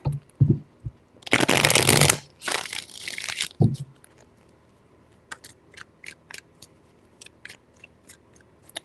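Two rapid bursts of tarot card shuffling, a riffle followed by a second shuffle, close and crisp, then a few light taps and clicks in near silence.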